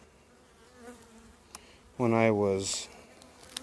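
Honey bees swarm over a brood frame lifted from a hive during an April check, a low steady buzz running throughout, briefly covered by a voice midway.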